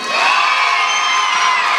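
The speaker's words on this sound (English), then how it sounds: "One more big round of applause for Dorfler." A loud, continuous roar of cheering and shouting from an audience at a school talent show, with high-pitched young voices whooping over clapping.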